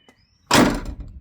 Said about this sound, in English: So as you can see, the door closes